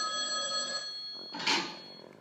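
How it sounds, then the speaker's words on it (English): Telephone bell rings as a sound effect in a radio comedy show, a bright metallic trill lasting under a second, followed by a short clatter like a receiver being lifted. "I got a phone call"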